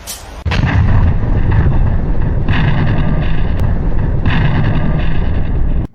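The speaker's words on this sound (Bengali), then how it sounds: "একদিন জোর একটা বিস্ফোরণের আওয়াজ শুনতে পেল" A loud explosion erupts after a brief quiet start, then rolls on as a heavy, sustained roaring rumble with deep low-end weight that holds steady for several seconds before stopping suddenly.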